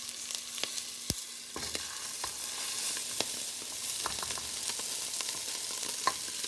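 Washed moong dal and rice being stirred in a cooking pot for khichadi, giving scattered, sharp spoon clicks and scrapes over a low, steady background hiss, with no talking.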